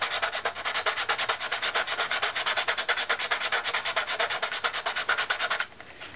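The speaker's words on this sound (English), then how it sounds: "I'm just going to be sanding just this wing by itself to start with." Steady, rapid back-and-forth rasping of sandpaper on a thin wooden strip, close and continuous, with a rhythmic scratchy pulse that stops abruptly near the end.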